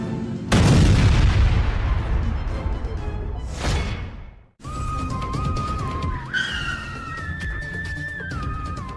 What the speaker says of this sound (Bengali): আর এখানে আসার মতেই আমার বাইকটা বোমের মতো ব্লাস্ট হয়ে যায়।